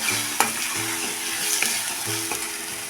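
Spiced masala sautés in released oil for egg curry, a constant close hiss and crackle with a few sharp spoon scrapes against the pan at regular intervals.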